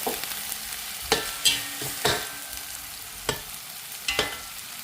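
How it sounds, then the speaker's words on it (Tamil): Onions frying in a pan over a high flame, stirred now and then, with a steady close sizzle and sharp utensil scrapes at irregular intervals. No one speaks. "இதை நல்லா வதக்கிக்கலாம் வெங்காயம் நல்லா ப்ரௌன் கலரில் வரும் அந்தளவுக்கு நல்லா நல்லா பெரிய தீ வச்சே செஞ்சுக்கலாம்"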